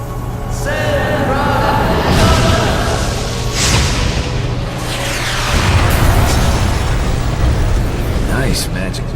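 Magic missile spell blasts in an animated movie: bursts and booming whooshes over dense roaring effects and music, loud and continuous, with speech-like voices mixed in.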